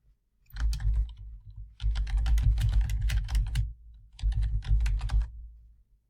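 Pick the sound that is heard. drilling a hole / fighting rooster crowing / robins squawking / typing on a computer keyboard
typing on a computer keyboard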